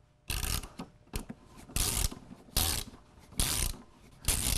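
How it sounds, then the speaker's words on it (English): A ratchet cutter bites through a pipe in repeated bursts of clicking ratcheting, six sharp close strokes separated by short pauses, with no talk. "notice I'm using the new ratchet cutter that you've added to inventory"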